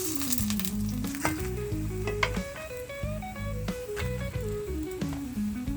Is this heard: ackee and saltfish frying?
yes